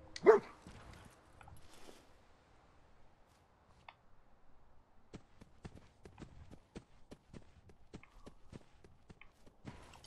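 A dog companion in the Fallout 4 video game gives a brief bark at the start, followed by a long run of quiet, evenly spaced footsteps.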